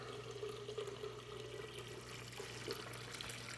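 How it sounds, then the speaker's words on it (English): Water poured into a pitcher of homemade lemonade, a steady faint liquid rush over a constant low hum, with no talking. "And then what we do is add water."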